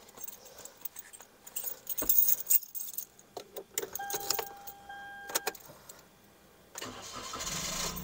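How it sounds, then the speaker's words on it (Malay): A Perodua Axia's engine cranks and catches around the midpoint, preceded by keys jangling and clicks, then settles into a steady idle that swells in the last seconds, close and fairly loud. "jom kita start kereta, kita tengok apa yang jadi"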